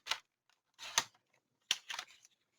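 Scissors snip through paper backing for a 9 x 9 magic album, with four short, crisp cuts in two loose pairs separated by quiet pauses, close to the ear and with no talking.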